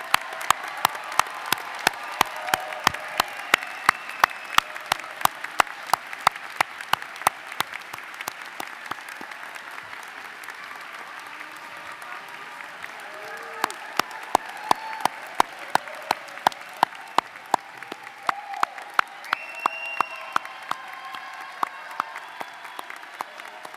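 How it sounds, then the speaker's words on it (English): A crowd applauds steadily for over twenty seconds at a university commencement ceremony, a dense patter of many hands clapping at once, with a brief dip partway through before it swells again. "let's join and congratulate them in a round of applause."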